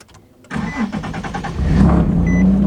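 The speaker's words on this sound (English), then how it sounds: "I love the way this car sounds." A turbocharged Nissan VQ car engine cranks and catches, revving into a rough, throaty idle that grows louder and deeper, close by.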